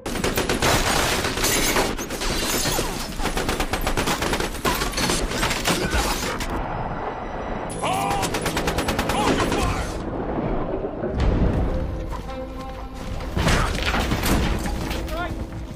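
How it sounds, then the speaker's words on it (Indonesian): Machine guns fire in a film action scene as a gang sprays a hideout, producing dense, loud, rapid bursts of gunfire with mechanical clatter and heavy booms that pause briefly and resume, with voices heard amid the shooting. "Keegan dan para anak buahnya langsung memberondong tembakan ke tempat persembunyian Bobo"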